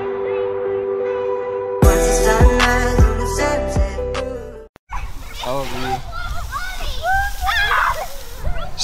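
A short burst of music gives way to water spraying and splashing at an outdoor splash pad, with children's voices chattering and squealing around it.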